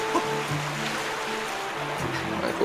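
Water splashes and rushes down like a shower in Zelda Skyward Sword, a steady, loud hissing wash with faint musical tones underneath.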